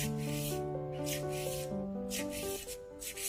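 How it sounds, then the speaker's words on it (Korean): An artificial nail being filed with a nail file in quick rhythmic strokes, each a soft scratchy rasp repeating several times, close and faint over a background of soft music. "일자로 화일링 하는 방법으로 화일링을 해주고 있습니다"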